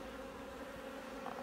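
A steady, low droning hum of many honeybees buzzing together in an open hive, faint and continuous, with no voices.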